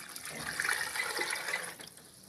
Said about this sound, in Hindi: अब इसमें पानी डाल लेंगे 2 लीटर।